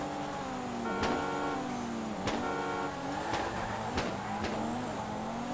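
Horn beeps from a car in GTA 5 used as a drag race countdown, for a Nissan S15 sleeper drag car, sounding as several short, evenly spaced toots over a steady idling engine drone.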